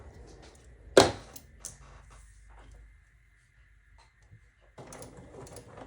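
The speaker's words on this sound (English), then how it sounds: "now let's go sew these" Sewing machine stitching quilt block pieces for a strawberry blossom block, heard as a quiet mechanical whir with faint rhythmic stitching clicks, plus a sharp knock early on and a short busy burst near the end.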